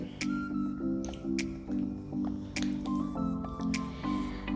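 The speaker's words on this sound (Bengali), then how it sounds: "আমি নেড়ে দিচ্ছি, আপনারা ঘনত্বটা দেখতে পারবেন।" Thick creamy macaroni salad dressing stirred in a bowl, a rhythmic wet squishing with a repeated tonal scrape from the utensil, close and continuous.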